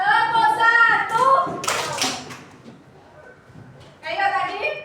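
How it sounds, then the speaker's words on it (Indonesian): A classroom of children claps once in near unison, a brief sharp burst amid the teacher and kids talking before and after. "coba tepuk satu"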